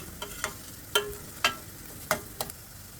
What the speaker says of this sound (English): You can see the onions turning slightly brown in color.